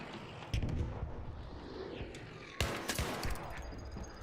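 A stick grenade explodes in an online shooter game, a sharp loud blast about halfway through, following an earlier thump, with a scattered crackle of gunfire and game noise around it.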